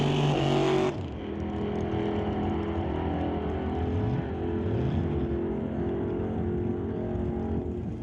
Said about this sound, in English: Walter takes off down the track in his Chevelle.